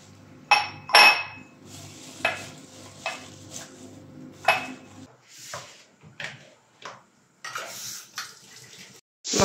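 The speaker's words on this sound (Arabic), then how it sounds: "دابا غنجمو هذا الشيء نغسل هاد الماعن" Dishes being washed by hand in a home kitchen, with clinks and clatters of pots, plates and cutlery arriving in irregular bursts, some sharp and close, separated by quieter gaps and light water noise.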